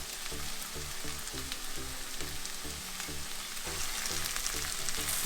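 Potatoes and spices sizzle steadily in a hot pan for a Gujarati okra and potato curry, a loud continuous frying hiss with a faint low pulsing underneath throughout.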